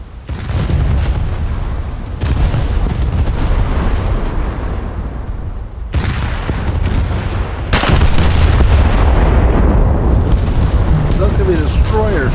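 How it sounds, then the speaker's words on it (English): Naval gunfire from destroyers in a warship video game: repeated loud booming blasts with rumbling tails, heavy and continuous, with a voice talking over parts. "Those could be destroyers shooting at me and then messing me up."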